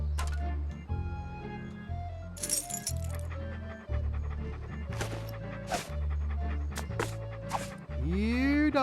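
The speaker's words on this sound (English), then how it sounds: "Here, doggy doggy." A dog in the Monkey Island 2 adventure game pants and yips over looping game music, with a few sharp effect sounds and a voice speaking briefly.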